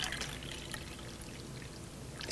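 Water poured into a measuring cup to portion out one cup for a Vitamix blender, a steady close trickling stream running without pause and with no talk.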